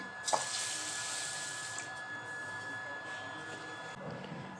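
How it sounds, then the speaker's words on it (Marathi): Clean water runs and splashes softly while urad dal is rinsed in a kitchen, a faint steady trickle with a few brief clinks and sloshes. "ती आता स्वच्छ पाण्याने दोन तीन वेळा धुवून घेणार आहे"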